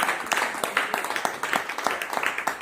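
Congregation clapping and applauding during a worship service, a steady dense patter of many hands with voices mixed in throughout.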